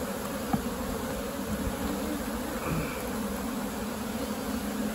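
Large honeybees hum at an open hive during a honey-super inspection, a steady dense buzz filling the background with a faint passing drone and a few handling knocks.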